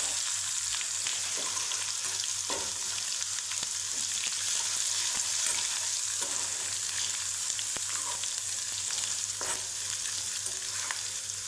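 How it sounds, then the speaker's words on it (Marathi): Garlic and ginger paste sautéing with curry leaves in a pan for a mushroom masala, a steady close sizzle with occasional stirring scrapes and no talk. "मस्त असं परतून घ्यायचा लसूण आणि अद्रक"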